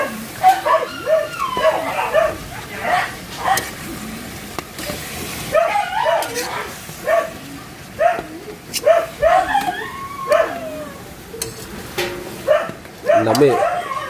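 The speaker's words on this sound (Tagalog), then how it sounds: "Yan yung mga aso guys." Several dogs bark and yip repeatedly in short bursts at middle distance, mixed with whimpers, over a noisy outdoor background with people talking.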